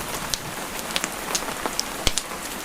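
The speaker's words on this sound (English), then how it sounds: "The rain shows no sign of stopping, and you're deeply glad of this" Heavy rain falls outside a Scottish cottage, a dense steady patter with scattered sharper drops close by, alone without talk.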